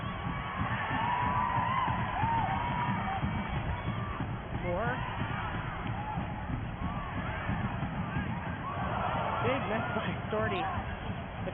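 Stadium crowd at a Northern Super League women's football match between Calgary Wild FC and Ottawa Rapid FC, a broad, steady roar with rising cheers and whoops, under continuous commentary.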